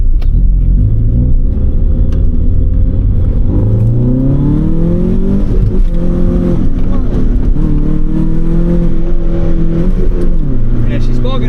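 A Proton Satria GTi engine revs loudly under acceleration, pitch climbing in repeated surges, then sagging and bogging before rising again, all close and dominant with cabin rumble underneath.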